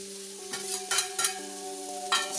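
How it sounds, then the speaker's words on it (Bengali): Vegetable chow mein with chopped tomato is stirred in a pan, giving soft scraping strokes and light sizzling over a steady background hum, with a few distinct stirring scrapes spaced through the moment. "এই যে টমেটোর মধ্যে এখন দিলাম, দিয়ে এটাকে হালকা করে নাড়িয়ে জাস্ট ছেড়ে দেবো"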